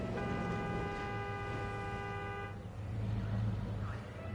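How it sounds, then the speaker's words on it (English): A vehicle horn in the video game Jurassic World Evolution 2 blares as one steady, sustained honk for about two and a half seconds over a low background rumble, then cuts off, leaving the hum. "Let's see if I can honk and get it to move."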